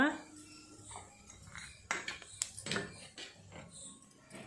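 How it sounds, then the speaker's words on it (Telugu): Cumin seeds going into a kadai while cooking capsicum paneer masala: a few near, bright clinks and clatters of a utensil against the metal pan, spaced irregularly over a quiet background. "అదే కళాయిలో మసాలా కోసం కొంచెం జీరా వేసేసుకోవాలి"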